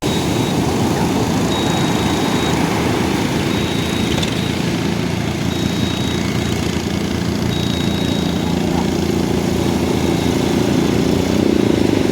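Fishing boat engines arriving one after another at a beach, a loud, continuous motor drone with a steady low rumble and a faint high whine, unbroken throughout and with no talk.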